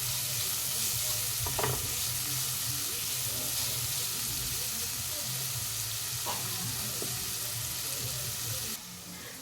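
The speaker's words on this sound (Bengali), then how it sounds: "সবজিটা ভালো করে খোলা আছে, আমি ভেজে নেব, বেশি ভাজবো না।" Vegetables for chilli chicken fried rice being stir-fried in a pan, a steady close sizzle with scraping stirs and occasional clinks of the spatula, with no talking.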